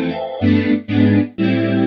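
Four sustained, robotic chords from a Morphoder vocoder ring out in sequence, each a thick synthetic voice with buzzy harmonics, separated by brief gaps.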